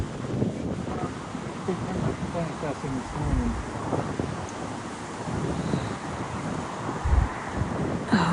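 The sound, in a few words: wind blowing, wind noise on microphone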